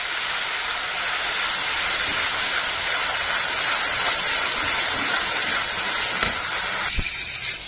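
Spice masala frying in a pan for Kashmiri dum aloo, a steady close hiss and sizzle that holds evenly throughout with a couple of faint clinks near the end.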